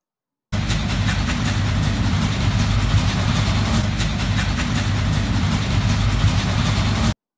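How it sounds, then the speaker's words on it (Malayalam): A Nilgiri Mountain Railway heritage train on rack track climbs a forest hillside, giving off a steady, close, rhythmic chugging for around six and a half seconds, with nobody talking. "നീലഗിരി കുന്നുകളിലെ കാട്ടുവഴികളിലൂടെ താളാത്മകമായ ചുക് ശബ്ദവും ഇടയ്ക്കിടെ പീപ്പി വിളിക്കുന്നത് പോലെയുള്ള ഹോണുമായി ട്രെയിൻ പതിയെ കയറ്റം കയറിക്കൊണ്ടിരിക്കുന്നു."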